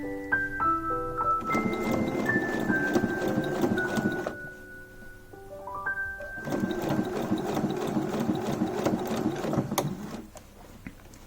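A home sewing machine stitches an invisible zipper into a retro dress, running in two bursts of steady mechanical whirring with a short pause between, close and loud.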